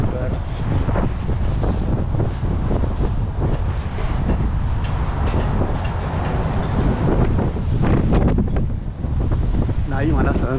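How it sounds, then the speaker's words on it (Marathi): Cold, gusting wind buffets the microphone as a man walks a downtown Chicago street on a winter morning, a loud, steady roar with low rumbling and traffic-like noise all the way through. "हॉरिबल आणि थंड वारा येतोय"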